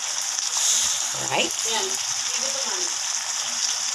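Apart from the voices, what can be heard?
sardines boiling in pan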